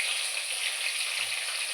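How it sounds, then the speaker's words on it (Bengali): Cashews and raisins fry in hot oil with a steady, even hiss and crackle. The sizzle stays close and continuous, with one low thump partway through. "এখন এই তেলে আমি কাজু কিশমিশগুলো দিয়ে দেব"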